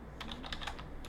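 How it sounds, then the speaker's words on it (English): Quick, close bursts of keystrokes on a computer keyboard while typing words into a table, several light taps in an uneven rhythm with no voices. "You start typing your favorite words"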